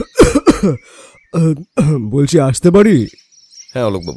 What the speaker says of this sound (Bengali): বাইরে একটা কাশির শব্দ শুনতে পেলাম